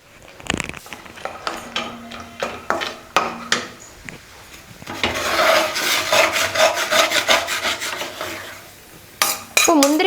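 Cashews roasting in a small amount of ghee in a kadai, with scraping and stirring rubs of a spoon against the pan, light clinks, and a steady frying sizzle building through the second half.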